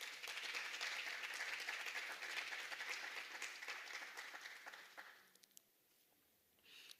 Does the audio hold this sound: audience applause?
yes